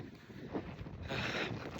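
Wind gusts buffet the microphone on a Himalayan trek over the 12,516-foot Kumari Pass, a steady rushing roar that swells louder partway through, with no voices.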